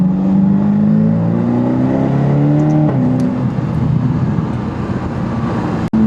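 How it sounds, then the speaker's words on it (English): A Ferrari's exhaust in comfort mode drones and rises in pitch as the engine revs under way, loud and close, with a brief sharp click near the end. "it doesn't seem like comfort mode quieted the exhaust down anymore. It's still it's still fairly loud."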